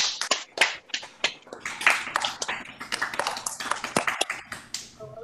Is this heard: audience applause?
yes